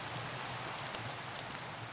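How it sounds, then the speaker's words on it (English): Steady rain falls in the video game Minecraft, an even, close hiss of rainfall with a faint low rumble underneath and no voices. "Oh, lovely, it's raining."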